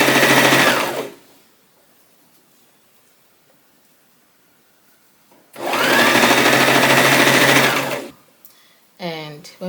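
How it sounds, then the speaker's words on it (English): Two loud bursts of a sewing machine stitching an extra-large fabric scrunchie, each running a few seconds at a steady whir with a quiet gap between, followed by a brief voice. "keep pulling and carry on sewing until you're finished."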